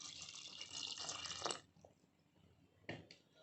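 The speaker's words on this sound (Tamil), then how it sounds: "இந்த காலிஃப்ளவர் முழுகிற அளவுக்கு தண்ணி ஆட் பண்ணிக்கலாம்." Water streams from a tap into a bowl of cauliflower for about a second and a half, then stops, followed by a few drips and a brief splash.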